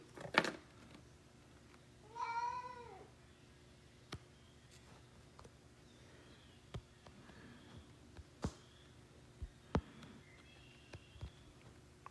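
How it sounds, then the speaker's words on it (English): A house cat meows indoors in the morning, a short rising-falling call near the start followed by faint scattered clicks and taps in a quiet room. "one of my cats is talkative this morning"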